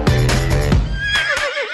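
A horse neighs loudly and close up in a sound effect: a strong whinny with a rising, wavering tail, and no voices.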